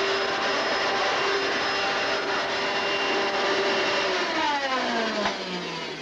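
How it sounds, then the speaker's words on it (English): A Hoover Fleet Roundabout vacuum cleaner runs during a home sales demonstration, with a loud, steady whirring drone and a high whine whose pitch sags toward the end. No one speaks. "Sir, I'm here to introduce you to the new Hoover Fleet Roundabout Vacuum."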